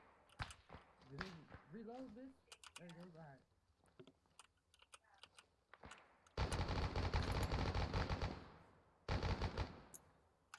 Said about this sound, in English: I'm just shooting the direction they're shooting from.